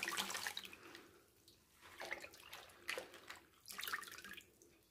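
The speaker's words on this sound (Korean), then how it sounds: "이걸 어떻게 하느냐 하면 소금물을 다 빼줘야 됩니다" Salty brine splashes and drips as salted napa cabbage is rinsed and drained for water kimchi, quiet uneven bursts of running and trickling water coming in three or four waves.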